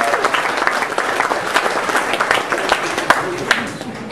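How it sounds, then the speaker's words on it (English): Wedding guests applaud in a dense, continuous patter of many hands clapping close by, steady throughout with sharp individual claps standing out. "give them another round of applause"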